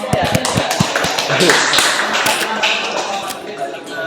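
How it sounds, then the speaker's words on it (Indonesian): Classroom clapping for a student discussion group: a small crowd claps in a loose, uneven rhythm with sharp individual hand claps up close, while voices talk over it. "Beri tepuk tangan untuk kelompok"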